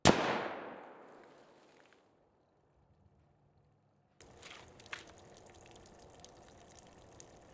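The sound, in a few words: rifle shot, .22-250 with Hornady 50 gr GMX bullet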